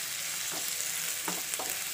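Finely chopped onions sauté in hot oil in a kadai, giving a close, steady sizzle broken by a few scraping stirs of a spatula against the pan.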